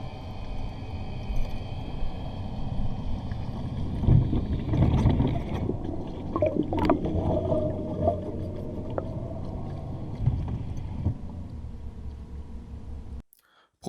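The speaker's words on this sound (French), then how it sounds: "Je vous laisse aussi entendre le bruit en immersion dans l'eau." Battery-powered Aiper Seagull Pro robotic pool cleaner running submerged in a swimming pool, a steady muffled underwater churning and whirring with rumbling water movement and a few faint clicks, continuous for the whole stretch before cutting off abruptly.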